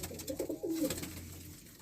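Dobaz breed pigeons coo softly nearby in a breeder's loft, a few low rolling coos in quick succession over a faint background hum.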